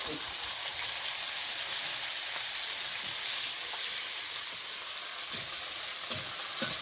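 Panch phoron spices crackle in hot oil in a village kitchen pan, a steady faint hiss with a few scattered pops and light clinks, no words spoken.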